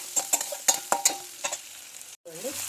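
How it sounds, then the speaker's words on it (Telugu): Onion pieces frying in oil with salt, giving a sizzling crackle with several sharp stirring scrapes near at hand, then a short silence and a brief tonal clatter at the end. "ఆనియన్ ముక్కలు వేసిన తర్వాత సాల్ట్ వేస్తే ఆనియన్ ముక్కలు తొందరగా మగ్గుతాయండి ఆయిల్లో"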